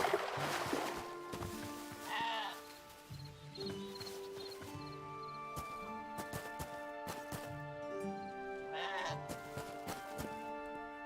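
A sheep in the video game Hytale bleats twice, once early and once near the end, fairly close, with other game sounds and soft tonal background music around it.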